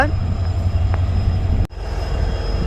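A passenger train running from Mysuru to Chamarajanagar near Ashokapuram railway station, heard as a steady, loud rolling rumble with a sharp clack partway through.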